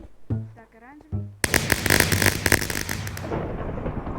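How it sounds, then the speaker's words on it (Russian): Fireworks from a video mini game burst in a dense crackling barrage after a brief electronic tune, loud and continuous, fading at the end. "Что это за фейерверки?"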